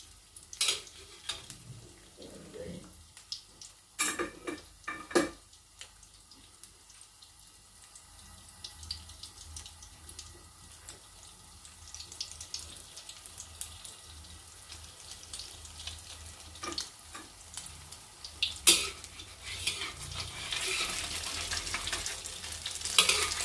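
Oil sizzles and crackles steadily in a pan as a Thai omelette fries, starting in oil not yet hot, with scraping stirs and clinks, the frying growing louder toward the end.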